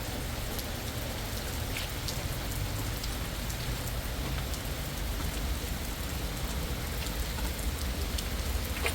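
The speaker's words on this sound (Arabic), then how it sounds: "كتير مطر." Heavy rain pours down steadily during a storm, a dense, even hiss of drops on surfaces with scattered closer splashes, no voices.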